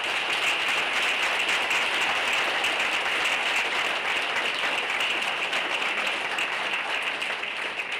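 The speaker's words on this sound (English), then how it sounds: "I'd like a round of applause for the courage that these people have to sit here before you" Sustained audience applause at an all-candidates election meeting in Brighton, a dense, even roar of many hands clapping that holds steady and loud for several seconds before easing slightly.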